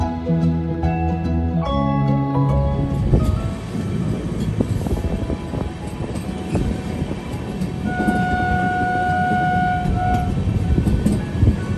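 A passenger train en route to Hubballi rumbles steadily and loudly throughout, with deep horn blasts near the start and a sustained, higher whistle-like tone later on.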